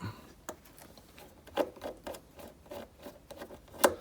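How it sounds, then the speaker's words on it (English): Screws are being removed from the top of a Boss Katana guitar amp, heard as faint scattered ticks, scrapes and small metallic clicks at close range, spaced irregularly with quiet between them. "So I'm going to start with the screws on the top."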